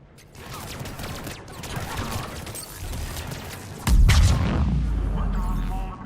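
Gunfire in a Mass Effect 3 firefight, with rapid crackling shots and a voice shouting, then a heavy booming blast that leaves a loud rumbling roar.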